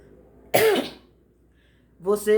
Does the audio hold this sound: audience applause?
no